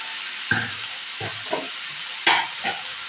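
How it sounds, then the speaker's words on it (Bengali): Steady hiss of spices frying in a hot pan, with a few distinct scraping stirs of a spoon against the pan. "কাঁচা মশলাটা দিয়ে একটু নাড়াচাড়া করবো 2 থেকে 3 মিনিট"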